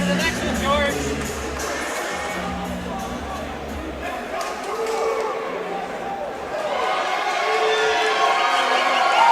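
A fight crowd at an AFL Amateur Series bout cheers for Dru Phoenix, a continuous indoor roar that swells toward the end while a commentator talks over it.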